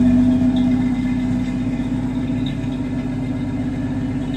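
A 1965 Ford Mustang engine idling close by, a steady low rumble with a faint hum on top, slightly louder at the start and then settling evenly, with no voices.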